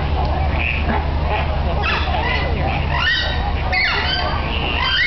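A southern screamer gives loud, honking calls in harsh, goose-like bursts, several in sequence, close by and standing out clearly over a low background hum.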